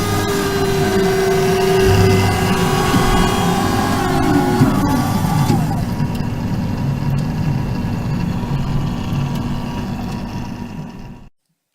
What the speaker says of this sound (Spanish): El sonido que escucharon es una máquina de café simple, una máquina de café automática,